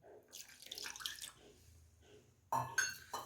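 Water pours from a measuring cup into a frying pan holding jaggery for millet chikki, a short splashing trickle after quieter kitchen clatter.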